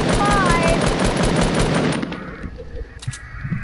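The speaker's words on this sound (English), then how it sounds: "I'm just shooting his fort." Rapid automatic gunfire in Fortnite aimed at a player's fort, loud and continuous for about two seconds, then dropping to scattered quieter shots and game sounds.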